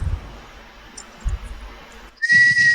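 A person gives a loud, sharp trademark whistle at an Australian rules football review, a single sustained high tone near the end, with low thumps and a quiet background before it.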